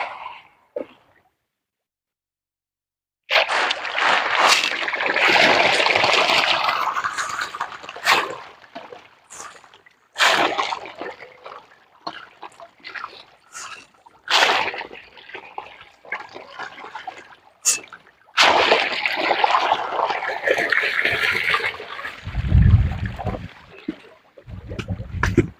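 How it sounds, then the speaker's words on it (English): Water flows and splashes into a catfish hatchery tank in bursts, loud and close, with brief gaps and some clattering between surges; a deep rumble joins near the end. "That's the water is entering very well."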